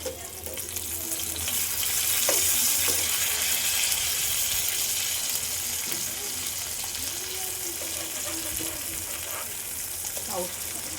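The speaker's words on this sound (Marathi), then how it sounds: "आता आपण या मच्छीला परतून घेऊया." Surmai fish pieces being turned and stir-fried in a hot pan: a loud, broad, continuous sizzling hiss that swells and then stays level, with occasional soft knocks of a utensil.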